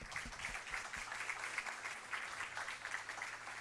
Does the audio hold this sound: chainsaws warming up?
no